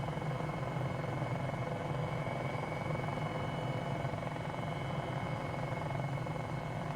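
An MD500E helicopter in Microsoft Flight Simulator 2020, flying over Queenstown, gives a constant, droning turbine-and-rotor hum with a steady low throb. It stays even and unbroken throughout, with no talk.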